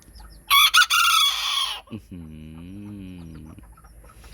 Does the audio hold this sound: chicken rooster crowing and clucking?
yes